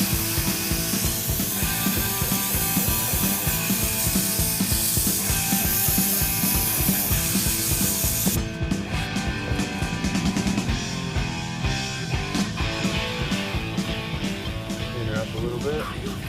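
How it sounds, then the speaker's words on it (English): AutoZone brake cleaner is sprayed onto the rotor hub of a 2007 GMC Savana dually van as a loud, continuous hiss, followed by rapid clicking, ratchet-like mechanical rattling. "now we're going to take some of your good old trusty AutoZone brake cleaner and clean everything up"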